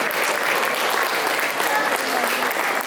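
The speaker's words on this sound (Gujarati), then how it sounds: "તાળીઓ શરૂ રાખો" An audience applauding at a Diwali cultural performance at Garching Hall in Munich, dense continuous clapping that fills the whole few seconds.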